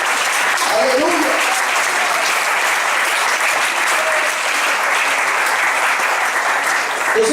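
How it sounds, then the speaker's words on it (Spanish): A church congregation applauds in a steady, dense burst of clapping that fills the whole stretch at close range, with a few faint voices and cheers mixed in. "Ya eso merece un aplauso"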